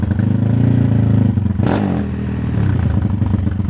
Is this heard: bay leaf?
no